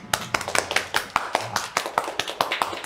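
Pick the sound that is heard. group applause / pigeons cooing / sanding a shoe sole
group applause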